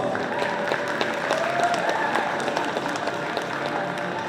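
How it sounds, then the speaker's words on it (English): An audience at a Lunar New Year heritage performance claps steadily for several seconds, with dense, sustained applause that sounds close and fairly loud throughout. "Let's give him a round of applause."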